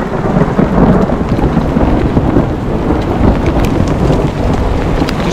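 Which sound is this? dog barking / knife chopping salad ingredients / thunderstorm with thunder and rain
thunderstorm with thunder and rain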